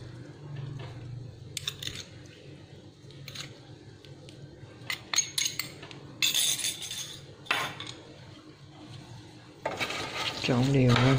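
Salt-roasted pork with garlic being stirred in a small pan, with scattered clinks and scrapes of a utensil against the metal, sometimes denser, and a voice briefly near the end.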